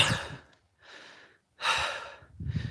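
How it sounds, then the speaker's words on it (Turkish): Heavy, ragged breathing of someone out of breath after a motocross motorcycle hill climb on Mount Erciyes at high altitude, with several loud gasping breath bursts separated by short pauses, close to the microphone. "minnacık tepe çıktım ama soluk soluğa kaldım yaşlanıyor muyum oksijen mi az"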